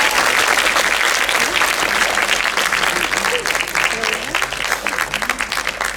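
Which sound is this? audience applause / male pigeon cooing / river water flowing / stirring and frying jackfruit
audience applause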